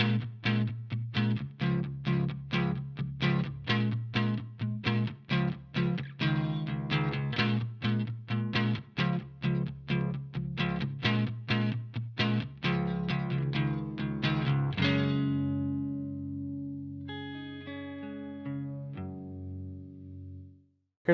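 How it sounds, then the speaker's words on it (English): A Stratocaster electric guitar with chorus and distortion plays a rhythmic strummed chord pattern, then lets a long chord ring out and adds a few sustained notes. "It's got Strat tones for days, and I really like the way that it sounds."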